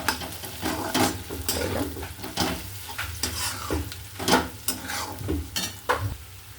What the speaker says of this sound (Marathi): हे मिक्स करून घ्यायचं आपल्याला